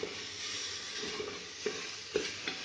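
Spiced chana dal mixture frying in ghee is stirred in a pan, giving a steady close sizzle broken by a few sharper scraping strokes of the spoon, with no talking.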